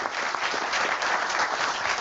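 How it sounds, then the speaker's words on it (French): A conference audience at a plenary session of Université IBM i 2024 breaks into steady, dense applause, with many hands clapping at once at an even, loud level and no talk. "Je vais vous demander juste un tonnerre d'applaudissements pour nos experts"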